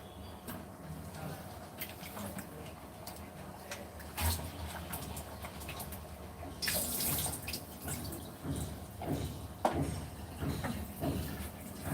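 Water runs from a tap in a thin, uneven stream, with clatters and splashes of washing up mixed in, fairly quiet and close.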